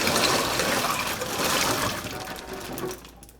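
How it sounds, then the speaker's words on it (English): Cold water pours from a tap into a bowl of boiled eggs, a continuous close splashing rush that gradually eases and cuts off near the end. "run a little more cold water in there"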